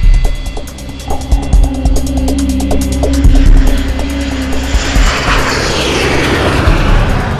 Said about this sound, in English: The airliner is just seconds from flying over the island of Sakhalin.